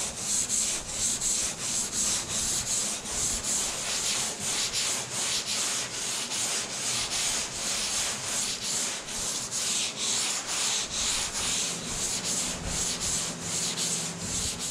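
Steady back-and-forth strokes of 220 grit sandpaper across cured body filler make a loud, continuous rhythmic rasp up close, with no voices.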